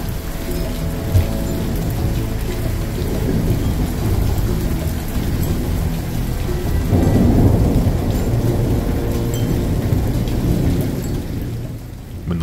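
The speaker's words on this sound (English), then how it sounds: "bringing with it an absolute downpour of water" Heavy rain pours steadily in a thunderstorm while thunder rumbles and rolls through, swelling louder midway before easing back.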